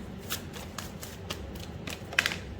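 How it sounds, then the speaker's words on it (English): A deck of tarot cards being shuffled during a card reading, a quiet run of crisp riffling flutters repeating in short bursts, close up, with no talking. "I'm going to give it a shuffle and then get a card."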